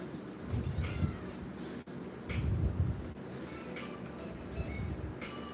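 A house cat meows several times, fairly close, with short plaintive calls spaced a couple of seconds apart over a low steady background hum.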